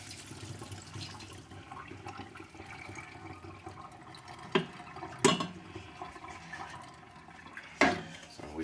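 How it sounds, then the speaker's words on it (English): Cooking water draining from vegetables poured into a colander in a home kitchen for chicken pot pie, a rushing splash of liquid with a few sharp clatters, under a murmur of voices. "I'm gonna take the vegetables here, and I'm put in the colander"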